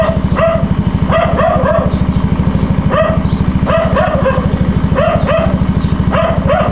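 A dog barks in repeated short yaps over a loud, constant rumbling engine that sounds like a motorcycle, the barks coming close together in clusters with no talk.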